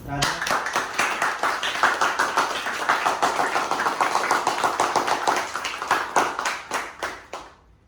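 An audience at a motivational acting course claps together for a student, dense rapid hand claps that stay steady and close before fading out at the end.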